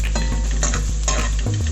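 Ginger, garlic and chilies sauté in a pan for beef pepper fry, a close sizzle broken by repeated scrapes and clinks of a spoon against the pan in an uneven stirring rhythm.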